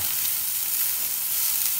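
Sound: rice flour batter sizzling in pan for bánh xèo

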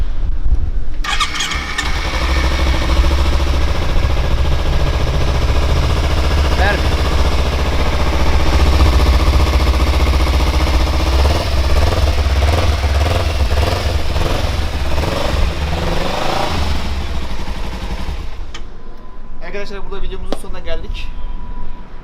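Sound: Kawasaki Ninja 300 motorcycle engine starting and idling

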